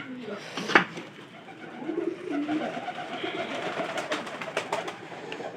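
Pet pigeons in a home loft coo softly and repeatedly, with wing flutters and light knocks, under someone talking nearby.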